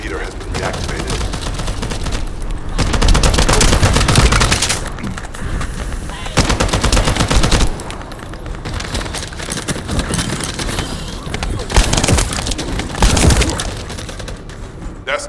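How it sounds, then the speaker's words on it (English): Video game gunfire in The First Descendant, a sci-fi shooter: bursts of rapid automatic fire rattle in heavy volleys, separated by quieter stretches of scattered shots. "That stopped the gunfire."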